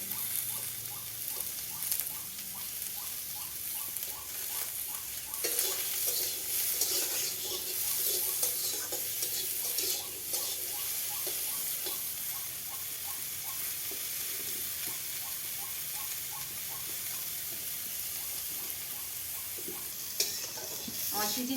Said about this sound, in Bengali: একদম হালকা ভাজা তেলেতে ভেজে, এইভাবে তেলে ভেজে নিতে হবে।